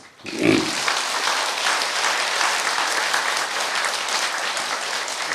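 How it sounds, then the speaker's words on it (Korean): An audience at a Buddhist Saturday dharma service marking a temple hall's fourth anniversary breaks into applause after a soft thump, then keeps up loud, even clapping that fills the room without a break. "박수 한번 주세요"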